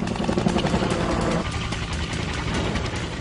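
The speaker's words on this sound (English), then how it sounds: "the helicopters land." Loud, steady roar of helicopters landing close by, rotor chop and engine whine filling the air continuously with no voices.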